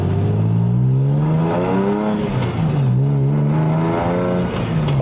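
A Porsche 996 with a Hartech engine is driven along, its engine and exhaust giving a loud, steady flat-six drone. The pitch rises and falls with speed and gear changes, up close and continuous.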